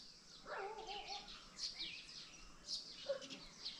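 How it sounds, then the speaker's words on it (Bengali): Small birds chirp in a quiet hill setting at Kausani, Uttarakhand: faint, scattered high tweets and short trilling calls at some distance over near silence. "হ্যাঁ পাখিদের চিরপিং সারাদিন শোনা যাচ্ছে।"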